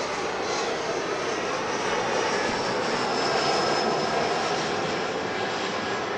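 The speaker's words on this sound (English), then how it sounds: "You see Delta Flight 780 there, now rolling. It's on its way to Atlanta. It's an Airbus A321." A Delta Airbus A321 jet rolls down the runway at LAX, its engines giving off a loud, continuous broadband roar that swells slightly, with no talk over it.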